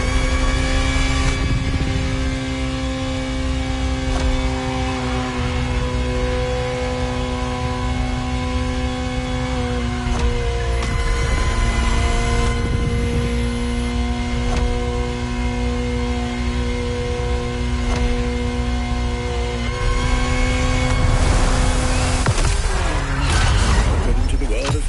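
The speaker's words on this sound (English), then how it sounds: "Just listen to the car you're driving." A Ferrari supercar in the video game The Crew Motorfest drones loudly and steadily at cruising revs. The engine tone shifts with gear changes and swells into harder revving near the end.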